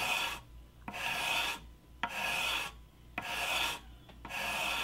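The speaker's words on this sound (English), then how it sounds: "To sand this part of the edge, we're going to sand downward and with repeated strokes" Sanding block drawn in repeated downward strokes along the edge of a solid-body electric guitar kit, giving five steady raspy rubbing passes, each ending in a short tap, close and clear with no talking.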